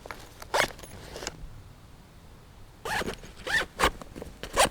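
The zipper of a small mesh pocket on a Maxpedition Xantha bag is pulled in a quick close rasp, then a pause, then several louder rasping strokes, heard close up with no talking.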